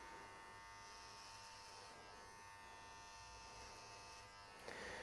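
An electric hair clipper buzzes steadily while cutting a man's hair at the nape of the neck, a close continuous drone held at an even level with no talk.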